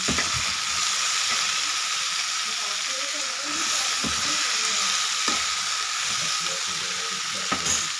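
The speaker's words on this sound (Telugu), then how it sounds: "ఇది ఫ్రై చేస్తున్నాము" Food fries in a pan in a village home kitchen, giving a steady, close sizzling hiss that runs unbroken throughout, with faint clinks of stirring.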